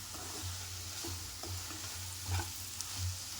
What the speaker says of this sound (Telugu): చూడండి ఎలా ఫ్రై అయిపోతుందో.